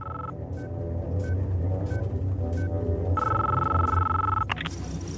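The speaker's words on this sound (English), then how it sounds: "He makes a phone call at the very end of the movie." A telephone ringing in a scene from The Matrix film, a repeated electronic ring in short regular bursts over a steady low rumble of traffic, with a longer sustained tone near the end.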